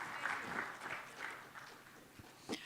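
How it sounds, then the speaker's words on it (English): Audience applause at a contract mining and sustainable practices conference in Hyderabad, a steady, fairly quiet patter of clapping from a hall crowd lasting under three seconds, with a couple of sharper knocks near the end. "give a huge round of applause to Mr."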